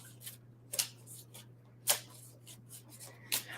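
A deck of reading cards being shuffled by hand gives soft, close riffling bursts, three sharper flurries among lighter rustles, over a steady low hum.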